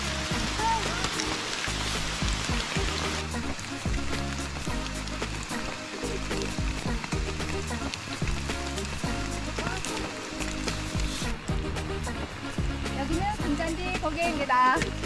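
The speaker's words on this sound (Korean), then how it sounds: "지금 비가 엄청 내려요." Heavy rain pours on a mountain trail at Gyeryongsan, a dense, continuous patter loud and close throughout, with a faint murmur of voices beneath it.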